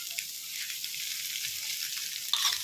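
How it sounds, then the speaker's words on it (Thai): Egg stir-fried with sweet preserved radish sizzles in a hot pan, a close, steady crackling hiss with small bursts as the food is moved, and no voices. "ผัดไข่ ให้สุกในระดับหนึ่งเสร็จแล้วก็ใส่เชโปหวานลงไปนะคะ"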